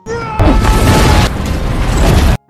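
A loud, sustained explosion from a film's self-destruct sequence, a heavy low rumbling boom that erupts after a brief lead-in and roars for about two seconds before cutting off abruptly.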